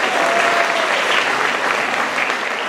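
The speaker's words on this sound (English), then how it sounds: "can we give him another round of applause?" Parents at a meeting applaud Mr. Tappan, a loud, continuous roar of many clapping hands filling the room, steady and close throughout.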